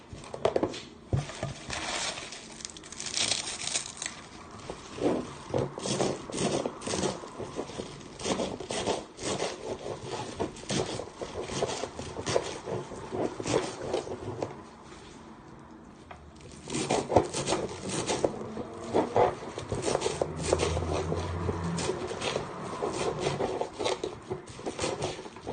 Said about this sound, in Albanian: thjesht e presim në copa më të vogla